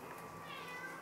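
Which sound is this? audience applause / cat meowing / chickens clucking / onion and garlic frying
cat meowing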